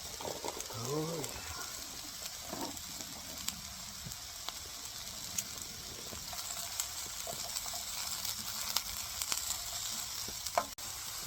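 Cabbage fries in a pan with a constant crackling sizzle up close, dotted with sharp pops and stirring clicks, while a voice speaks briefly near the start.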